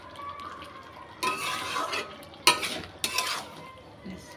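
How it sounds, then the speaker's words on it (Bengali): Tomato curry being stirred in a pot: three bursts of spoon scraping and clinking against the metal over a soft simmering hiss, close by. "এইগুলো না একটুখানি ভালো করে নেড়ে দিলে টমেটোটা বেশ মিক্সড হয়ে যায়"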